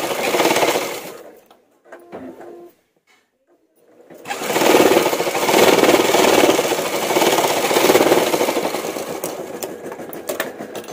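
A sewing machine stitching a boat neck blouse hums loud and close in a short run, stops for a moment of near silence, then resumes with a long steady rapid whirring stitch that gradually eases off.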